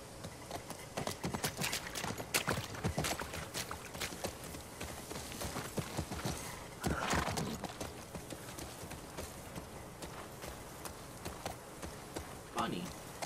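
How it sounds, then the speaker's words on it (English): Hooves clip-clop steadily as a horse gallops in The Last of Us Part 2, a continuous rhythmic pounding over a wash of outdoor game ambience, with a brief swell of other noise midway. "Okay, I got a horse."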